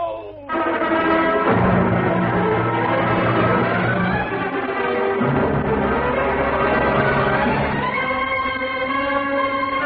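Church bells ring out in an old-time radio mystery drama set in Cagliostro Street, a dense, sustained clang of many overlapping tones that swells and continues loudly without pause for about ten seconds.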